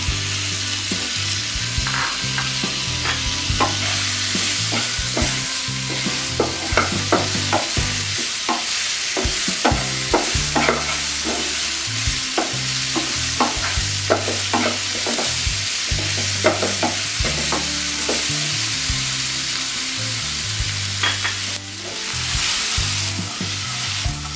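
Chopped tomatoes going into hot oil and being stirred while cooking puti fish: loud, continuous frying sizzle with busy metallic spatula scrapes and clinks throughout, up close with no talking.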